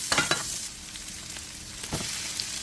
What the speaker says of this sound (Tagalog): magluluto ako ng ground beef. Yan, siyempre may bawang, may sibuyas